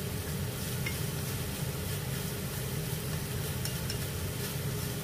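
Minced pork and onion sizzle steadily in a hot pan while being stir-fried, a close, continuous crackling hiss with occasional stirring scrapes and no talk.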